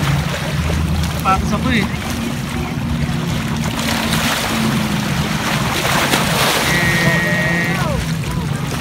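Strong waves churn and slap around a boat on the water off British Columbia. Heavy wind buffets the microphone throughout, and people talk briefly over the continuous rushing noise.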